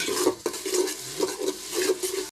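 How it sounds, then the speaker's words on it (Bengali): Onions frying in a pan until reddish, with a rhythmic series of close, fairly loud stirring scrapes over a low sizzle, plus one sharp knock of utensil on pan, no talking. "পেঁয়াজ দিয়ে দিলাম পেঁয়াজটা লাল হোক"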